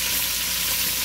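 Lamb sautéing in a pan for a spicy tomato-sauce stew, giving a steady close sizzle and hiss that holds at an even level throughout the brief stretch, with no voices over it.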